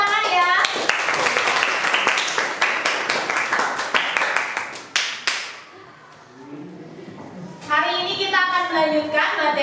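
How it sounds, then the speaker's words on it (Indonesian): A classroom of students claps hands together in a loud, rapid burst lasting several seconds before fading out, followed by a teacher talking. "tepuk tangan ya"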